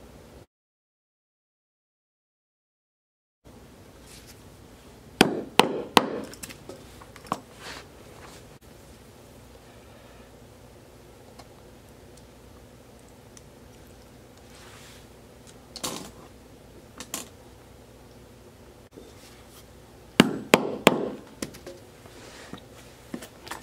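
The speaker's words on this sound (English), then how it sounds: "Here we're gonna punch these holes." Leather hole punch working through leather for a duffel bag, giving a few short clustered sharp hits around the five, sixteen and twenty-second marks amid a quiet workshop.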